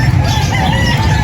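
Bantam chickens crowd a pet market, with loud, dense clucking and crowing from many birds close by and no voices.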